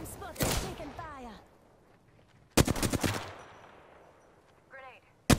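Sharp bursts of gunfire in Apex Legends, two short rapid volleys a couple of seconds apart plus a final crack, close and punchy, with brief game voice lines in between.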